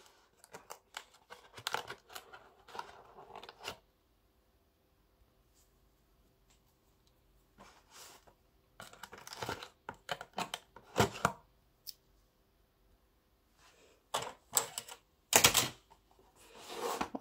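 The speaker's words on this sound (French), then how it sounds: "Je vais vous le déballer." An ultrasonic cleaner for glasses and jewellery is unboxed up close: bursts of crinkling, tearing packaging and cardboard handling, separated by quiet pauses, with no talking.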